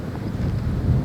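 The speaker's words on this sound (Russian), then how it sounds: "Опять поднялся ветер сильный." Strong wind in a snowy winter forest roars steadily as a low, broadband rumble buffeting close, with no voices, throughout.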